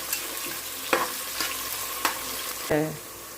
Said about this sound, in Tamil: அடுத்தது நம்ம வெங்காயம் ஆட் பண்ணி வச்சோம். ப்ரௌன் கலரில் வரணும்.